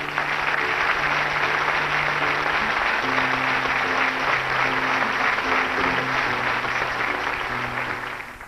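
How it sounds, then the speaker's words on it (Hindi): A studio audience at a televised interview claps in a steady, full round of applause that holds evenly for several seconds, then starts to taper at the very end. "जोरदार तालियों से स्वागत करिए दिनेश गोस्वामी का"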